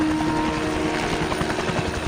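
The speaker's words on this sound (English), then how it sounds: "That's why the helicopter is landing outside your hotel." A landing helicopter in James Bond 007: Blood Stone, its rotor beating as a loud, steady throb with a constant engine drone from start to finish.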